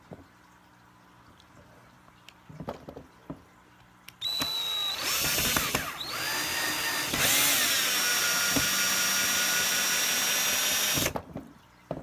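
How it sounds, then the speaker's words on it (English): A power drill fitted with a Phillips head bit whirs loudly for several seconds after a few soft handling clicks, its pitch rising and holding before it stops, close by with no talk. "Try to put the Phillips head into my drill."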